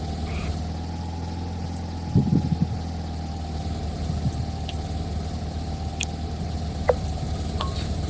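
An American car's engine idles with a thin, buzzy, moped-like drone that holds steady and loud, with a few brief clicks and a short rattle partway through.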